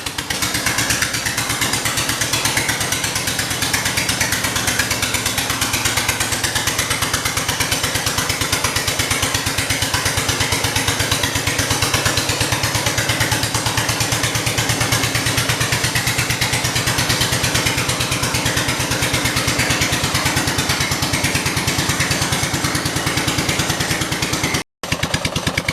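Engine of a 1968 vehicle running steadily on a test drive after a transmission swap, a loud, continuous rough drone throughout with a brief dropout near the end, no talk.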